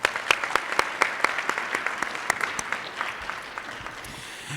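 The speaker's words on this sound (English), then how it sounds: "Let's give Daria another round of applause." An audience at a business honor society induction ceremony claps in a moderate, somewhat distant round of applause, individual claps audible early before it thins and fades toward the end.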